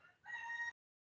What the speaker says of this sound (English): I got a rooster trying to get into my garden